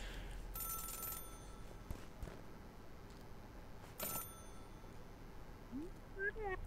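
A phone rings in the video game Celeste: brief bell-like rings and chimes over quiet game ambience, faint and sparse with short electronic tones.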